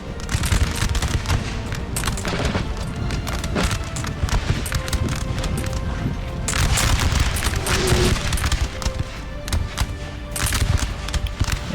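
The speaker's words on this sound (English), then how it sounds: "Enemy artillery firing in the direction." Artillery fire in Napoleon: Total War, a continuous din of booming, cracking battle shots rolling through the whole stretch, dense and loud with heavier bursts clustered toward the middle and end.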